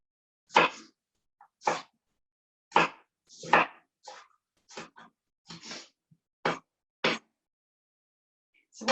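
Knife chopping onion on a board while olive oil heats in a pan for shakshuka: about eleven sharp, separate cuts in an uneven rhythm, close and fairly loud, with no talking.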